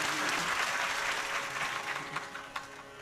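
Applause from a crowd at a Ram Katha gathering, dense and loud at first, then thinning into scattered, sharper individual claps as it dies away.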